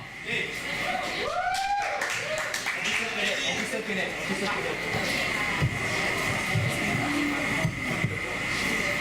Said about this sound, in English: So give a big round of applause to Officer Praval